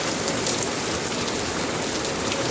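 Steady, dense rainfall pattering on a surface, loud and continuous throughout with no other sounds.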